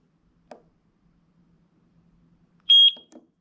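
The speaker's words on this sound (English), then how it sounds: "Press the sync button until you hear the beep." A Eufy dual video doorbell gives a single short, clear electronic sync beep after near silence, with faint clicks of handling before and after.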